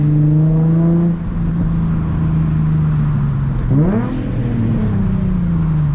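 A Nissan 350Z with a single exit exhaust hums steadily from inside the car, then drops a gear with a sharp rising rev blip before settling back into a lower engine drone, loud and close with no speech.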